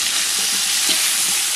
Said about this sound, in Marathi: कांदा मस्त लालसर करून घेऊ पहिला.